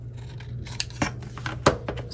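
A few crisp snips of scissors trimming paper for a junk journal recipe pocket, isolated cuts spaced irregularly over a low steady hum, close by and without any talking.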